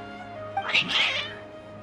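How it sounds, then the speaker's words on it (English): Cats in the video game Genshin Impact let out a short, loud burst of agitated meowing and yowling. The sharp, high cries stand out over a low steady background hum. "Your cats seem pretty worked up"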